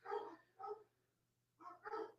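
Dogs just home from a kennel bark in a quiet room, a pair of quick barks followed by a pause and then two more, faint and somewhat distant, with a low electrical hum beneath and no talk.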